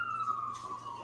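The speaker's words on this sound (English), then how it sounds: "That was a fire truck." A fire truck siren wails steadily at a distance as it passes along a main road, holding a high tone that drifts slightly downward, with low background hum beneath it.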